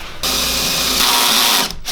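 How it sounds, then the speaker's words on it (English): A power drill bores out a hole while a roll cage is installed on a Jeep JKU, one steady, loud, close whine lasting under two seconds before cutting off. "I'll drill that out."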